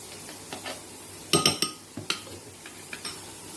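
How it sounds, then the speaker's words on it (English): A spoon clinks and scrapes against a bowl while yogurt tadka raita is stirred, with a few sharp taps clustered in the middle and softer knocks scattered before and after. "We mix it tadka raita, the yogurt"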